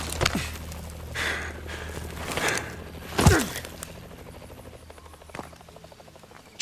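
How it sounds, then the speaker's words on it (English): A helicopter in Call of Duty: Advanced Warfare whirs in the background, with a few sharp thuds and clicks scattered over it, fairly quiet overall. "Chopper's moving off."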